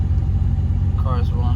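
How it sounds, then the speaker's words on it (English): A car engine with a Digi Dizzy distributor idles in a low, steady rumble close by, briefly overlaid by a voice near the end. "That's my idle."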